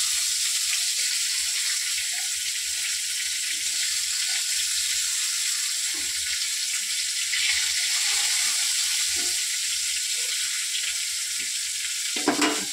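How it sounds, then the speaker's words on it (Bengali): Pointed gourd (potol) fries in a pan with a steady, even sizzle that carries throughout, broken only by a brief utensil clatter near the end; no one speaks. "পটলটা ভাজা হোক।"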